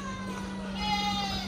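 Goats bleating at a livestock market in the UAE where goats are sold for Qurbani, a few wavering cries close by over a steady hum and crowd murmur.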